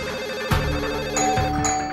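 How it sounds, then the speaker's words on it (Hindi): A telephone rings continuously, a loud, close electronic trill with repeating tones and no voices. "तब तक फोन की घंटी बजने लगी"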